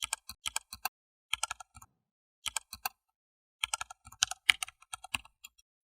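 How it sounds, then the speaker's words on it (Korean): A login ID and password are typed on a computer keyboard in quick bursts of sharp key clicks separated by short pauses, close and quiet, with no voices. "그분이 가르쳐주신 아이디 비밀번호를 입력해 보았는데요"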